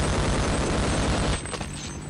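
Rapid, loud gunfire from Half-Life fills the space in a dense continuous barrage that thins into scattered shots near the end, with no voices over it.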